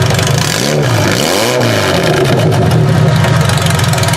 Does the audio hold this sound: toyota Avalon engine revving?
yes